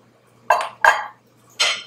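A spoon stirs cheese into a thickening milk sauce in a pot, giving three sharp metallic clinks against the pot, close and loud, with quiet gaps between them.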